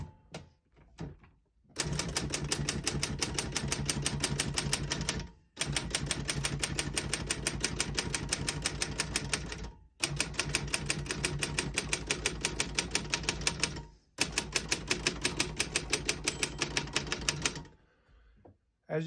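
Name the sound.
typing on a 1958 Royal FPE typewriter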